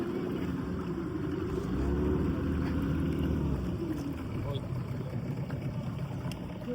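A boat engine drones steadily close by as the craft is brought in to moor at Nivati beach, its low rumble swelling slightly midway, with water and people talking faintly underneath.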